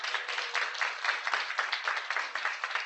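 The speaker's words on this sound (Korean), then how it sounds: "여러분을 위해서 자축의 박수 한번 부탁드려요." Audience applause at a business talk after the presenter speaks of the Lisbon Summit, a steady dense wash of many hands clapping, moderately loud and continuous without any voices over it.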